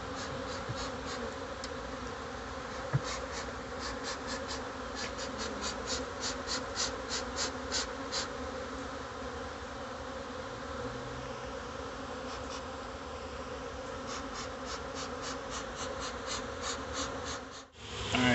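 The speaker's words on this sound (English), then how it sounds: "the bees are down here signaling, hopefully pulling all the rest of the bees in. They're in a big cloud right now everywhere." A large cloud of Nolde Forest honeybees swarming outdoors after a forced abscond, a dense continuous buzzing hum that stays steady and close throughout, with a brief dip near the end.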